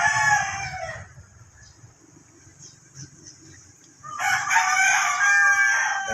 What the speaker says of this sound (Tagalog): Dami nila manok.